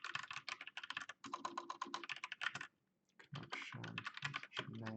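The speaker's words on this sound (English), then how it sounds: "So I'll manually type this in." Rapid typing on a computer keyboard, close and clear, with bursts of keystrokes, a short pause near the middle, then more clattering keys and heavier thumps.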